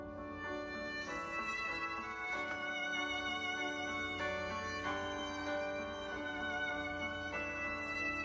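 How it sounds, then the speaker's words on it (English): Quiet hymn accompaniment track with violin carrying sustained melodic lines over soft backing, faint and continuous with no singing. "violin playing in the background"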